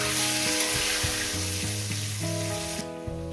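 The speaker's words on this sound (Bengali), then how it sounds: "আলুগুলো আমি ভেজে নেব" Potatoes frying in a pan for a chicken curry with cauliflower, a loud continuous sizzle with stirring scrapes throughout, no talking.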